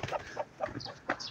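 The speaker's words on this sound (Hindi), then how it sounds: "ये हमारी देसी मुर्गी" A desi country hen in a mountain village yard in Neelum Valley, Kashmir, gives several short, close clucks in an irregular rhythm, with no talking over them.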